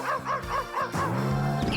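A dog barks in a quick run of four short yips, then lets out a longer whining bark, close and fairly loud over a busy cartoon-style background.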